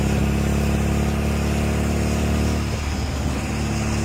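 A 1958 Devon MG kit car driving on Virginia back roads, its engine giving a steady, loud, close drone that stays constant throughout.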